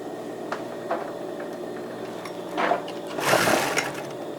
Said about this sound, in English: then I go to the straight stitch machine.